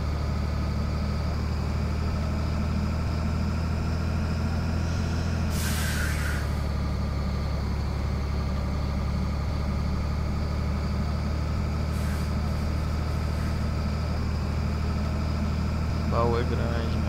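Scania 113H truck pulling a large box trailer downhill under engine braking in Euro Truck Simulator 2, a loud, steady, throbbing engine drone with a sharp hiss of air brakes partway through and fainter hisses later.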